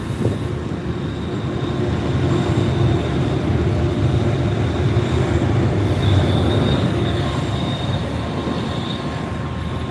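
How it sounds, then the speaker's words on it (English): A Red Line subway train rolls past continuously, a steady rumble of wheels on rails with faint metallic squeal, close and loud throughout. "Look out for the train."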